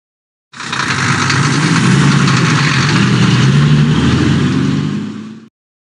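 A truck engine runs steadily for about five seconds, a loud close rumble with a strong low drone that starts and stops abruptly, with no voices.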